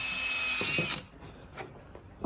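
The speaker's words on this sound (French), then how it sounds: "on arrive au perçage, la fin du perçage pour cette du milieu" A power drill bores holes in a wooden shield: a steady loud whirring grind runs for about a second, then cuts off, leaving a few faint clicks and handling knocks.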